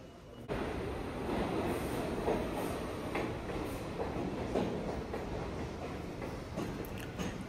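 Steady rumble of a passenger train ride in Jackson Heights, a continuous broadband roar with faint rhythmic wheel clatter, sounding close and fairly loud throughout with no talking.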